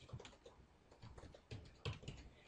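Quiet typing on a computer keyboard during data entry into an Access table, a rapid patter of soft key clicks with a few heavier strokes. No voices are heard.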